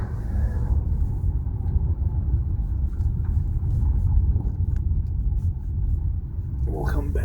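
A car driving slowly around a rough Detroit neighborhood block, heard from inside as a steady low engine and road rumble, with voices talking over it.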